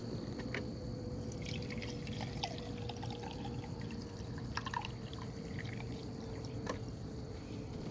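Fresh water poured into containers holding sweet potato slips, a steady wet splashing stream with a few brighter drips and trickles on top, close and continuous, with no talking.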